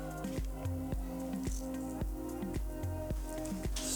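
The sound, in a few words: stirring lobster sambo filling with sour cream and lemon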